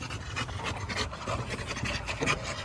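A pregnant pit bull pants rapidly and steadily close to the mic, with continuous breathy huffs and no pauses throughout.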